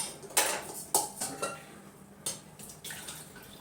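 Kitchen sounds of potatoes being set to boil in a pot of water: several sharp clinks of metal utensils and pot against each other, spaced irregularly, with faint water sounds in between.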